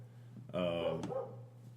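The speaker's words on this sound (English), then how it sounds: "my dog is mad, so y'all just have to listen to her bark a minute" A dog barks once, a loud, close, harmonic bark lasting about half a second, followed by a softer yip, over a steady low electrical hum with no speech.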